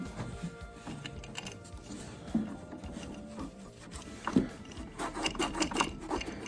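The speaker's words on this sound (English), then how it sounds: "I'm gonna go in around them and clean it with a little bit of lacquer thinner if I can get to it." Faint, close scrubbing strokes as heater core tubes on an AMC Rambler wagon are rubbed clean with lacquer thinner, an irregular scratchy rubbing that comes and goes.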